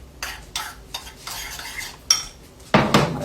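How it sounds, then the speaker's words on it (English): Spoon scraping and clinking against a pot while stirring a stuffed-shells filling mixed with Parmesan cheese, in several short bursts of stirring with a louder final burst. "I'm just going to kind of stir that all together."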